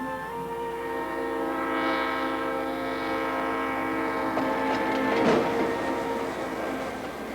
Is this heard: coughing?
no